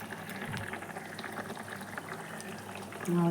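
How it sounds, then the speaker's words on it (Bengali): Rice boils in a pressure cooker with a continuous bubbling, churning water sound, and a brief higher tonal whistle or hiss rises at the very end. "আমার মাছের ঝোল রেডি রুই মাছের ঝোল এখানে ভাত বসিয়েছি প্রেশার কুকারে"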